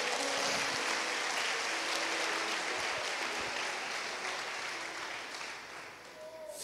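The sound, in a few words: congregation applauding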